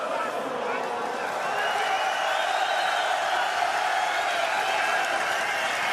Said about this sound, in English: Crowd singing along, very, very happily, Brave Nation. This atmosphere is incredible.